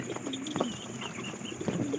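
Soft, low pigeon coos repeat in short murmuring phrases over a steady background hum, fairly close and gentle.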